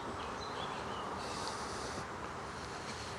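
Dark honeybees (F2) swarm over an open Langstroth hive during an inspection, giving a continuous close, even buzz that fills the whole stretch, with occasional single bees droning nearer.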